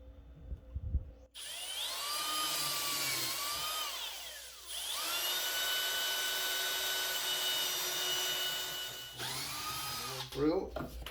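A power drill fitted with a 1/2 inch bit bores through a shelf for LED wiring, running in two long bursts with the pitch dipping under load and a brief pause between, with short noises at the start and end.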